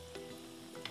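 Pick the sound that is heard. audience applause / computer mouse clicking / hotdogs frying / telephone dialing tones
hotdogs frying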